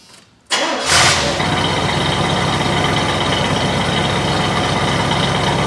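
A fully original 1972 Chevrolet Monte Carlo V8 with a rebuilt engine cranks briefly and catches, then settles into a steady, loud, even idle that runs on without pause.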